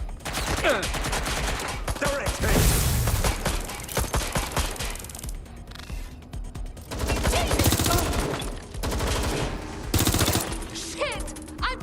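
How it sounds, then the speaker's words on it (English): Heavy video-game gunfire in Watch Dogs: Legion, loud sustained automatic bursts and rattling volleys filling most of the stretch, with brief gaps and a final sharp burst near the end. "I'm getting shot at here!"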